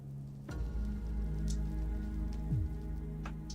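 Rain in Minecraft during a roleplay session, a steady close patter of drops with a low background hum, continuous throughout.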